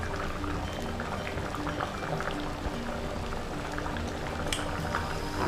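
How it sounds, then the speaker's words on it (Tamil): Chicken curry bubbling at a steady boil in a pot, a close, continuous burbling with small pops and a faint clink near the end. "இப்போ இந்த கொதிக்கிற கறியை இப்போ நான் பார்க்குறேன்"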